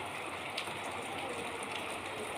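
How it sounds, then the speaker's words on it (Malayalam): Heavy rain falls steadily outside a house window, a soft, even hiss of drops heard from indoors, faint and unbroken with no voices. "നല്ല മഴ. ജനലിലൂടെ ഇങ്ങനെ മഴ കണ്ടു കിട്ടാൻ നല്ല രസമാണ്."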